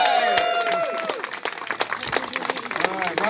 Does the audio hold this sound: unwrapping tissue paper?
no